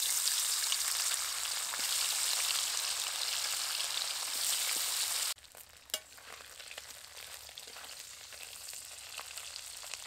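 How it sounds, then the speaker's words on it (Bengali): Dried fish fry in mustard oil with a loud, dense sizzle that drops sharply partway through to a quieter crackle with scattered pops. "এবার মাছগুলো দিয়ে ভেজে নেব।"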